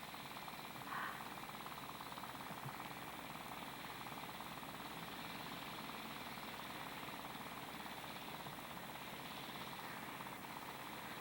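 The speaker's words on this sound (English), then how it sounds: "This train needs a bigger engine." A model train engine strains up an uphill grade with a steady, faint, buzzing mechanical drone that runs unchanged and alone throughout.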